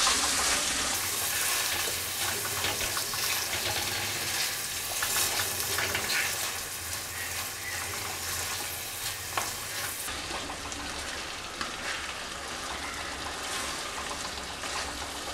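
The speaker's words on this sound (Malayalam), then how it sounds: "ഇനി ഇതെല്ലാം നന്നായിട്ട് മിക്സ് ചെയ്ത് കൊടുക്കാം" Potato and prawn stir-fry sizzles in a pan while being stirred and mixed, a loud continuous frying hiss with scraping stirs throughout.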